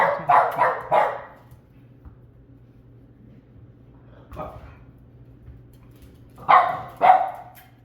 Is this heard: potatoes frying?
no